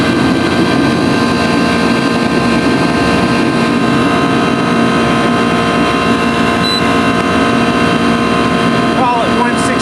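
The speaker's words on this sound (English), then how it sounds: "there's a motor inside there of this hermetically sealed compressor" A hermetically sealed compressor motor in a 40-year-old split-system air conditioner runs with a loud, steady drone and tonal hum throughout, with no breaks.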